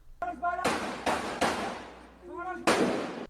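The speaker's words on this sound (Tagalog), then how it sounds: "Rinig sa video na ito ang sunod-sunod na putok ng mga baril." Several loud, sharp gunshots in quick succession at a campaign rally, with a voice speaking between and under them.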